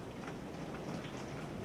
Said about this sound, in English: You can probably hear the rain in the background.